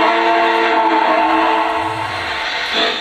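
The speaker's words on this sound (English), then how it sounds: "So here we go. Blow the whistle." A Lionel Legacy model train locomotive sounds its whistle in one sustained, loud, steady chord. A brief rumble joins it near the end.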